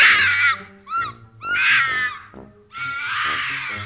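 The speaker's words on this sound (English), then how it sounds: "that's just the sound a fox makes" A fox screams: piercing, harmonic screams in three long bursts with short gaps, loud and close, rising and wavering like a shrill wail.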